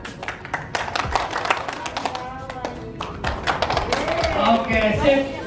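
Workshop group clapping in unison, a run of sharp rhythmic claps in quick sequence, loud and near, with talking mixed in toward the end.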